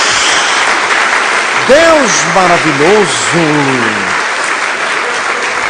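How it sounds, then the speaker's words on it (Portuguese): Congregation applause in church, a loud, continuous roar of clapping throughout, with a voice speaking over it in the middle. "Dê uma salva de palmas a Jesus."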